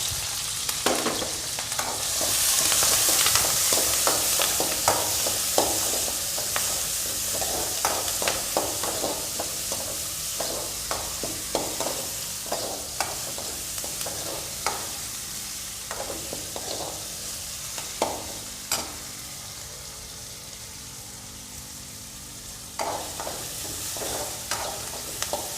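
Onions, curry leaves and tomatoes fry in hot oil with mustard seeds for a village-style Tamil fish curry, a steady sizzle broken by repeated scraping clinks of a stirring spoon against the pan, close and continuous.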